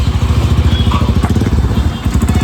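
A Hero Xtreme 125R motorcycle fitted with an Akrapovic full-system exhaust runs close by, giving a loud, steady, throbbing exhaust note with a rapid pulsing beat and no talk.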